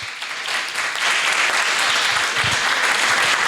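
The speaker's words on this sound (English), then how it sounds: "Your applause, guys." Audience applause after a talk at the first edition of a BRICS international school event in Brazil, a dense, steady wash of clapping that swells after the first second and holds loud and even throughout, with no voices over it.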